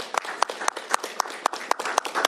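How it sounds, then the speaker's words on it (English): A small audience at a governor's bill signing claps for the bill's sponsors. The claps are sparse, distinct and fairly close, coming in an uneven rhythm. "Please give them a round of applause for their work on this legislation."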